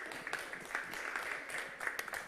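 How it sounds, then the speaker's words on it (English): A conference audience claps in a soft, fairly distant patter, with several sharper claps rising briefly above the steady rustle. "Just an applause."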